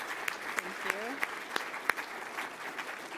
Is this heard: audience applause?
yes